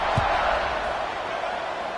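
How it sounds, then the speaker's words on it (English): Stadium crowd at a college football game, Virginia at North Carolina, with a broad, steady buzz of many voices that stays at an even level with no single voice standing out. "this crowd is buzzing after that last score"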